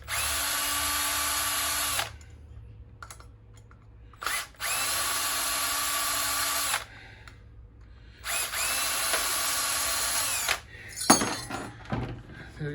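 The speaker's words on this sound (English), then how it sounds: "I can do the screws" Power drill working screws on a lamp holder while a light fixture is taken apart, running loud and close in three long whirring bursts separated by pauses, followed by brief clattering handling noises.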